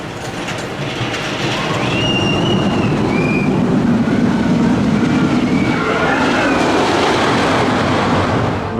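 Wodan Timber Coaster at Europa Park, a wooden roller coaster train roaring along the track with a loud, sustained rumble and squealing wheels, heard up close for several seconds.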